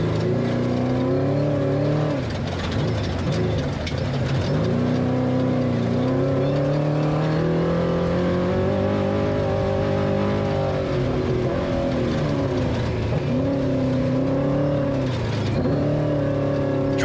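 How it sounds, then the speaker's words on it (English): A historic-class race truck engine runs in the NORRA Baja rally, 2025 stage from San Ignacio to Loreto, a loud steady onboard drone whose revs rise and fall smoothly, heard alone without talk. "Truck sounds healthy."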